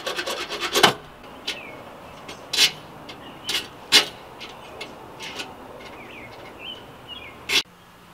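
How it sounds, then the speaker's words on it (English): Short rasping strokes of a hand file smoothing a hacksaw-cut metal tip, several isolated scrapes spaced a second or two apart with birds chirping outdoors in the background. "we got it filed down as smooth as a baby's bottom"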